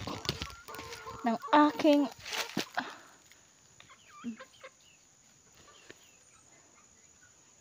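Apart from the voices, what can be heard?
chickens clucking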